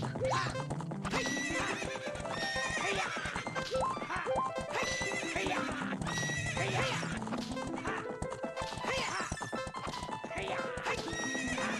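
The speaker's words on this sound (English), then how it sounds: "here we are with just Epona making actual horse noises" Epona the horse in the video game Ocarina of Time whinnies and neighs with clip-clop hoofbeats, set against busy game music that plays steadily throughout.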